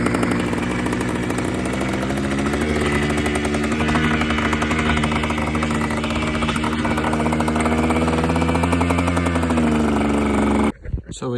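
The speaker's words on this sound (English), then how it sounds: "So we got the bike running" A cheap $75 dirt bike engine runs close by with a loud, steady, rapid putter throughout, then cuts off abruptly at the very end.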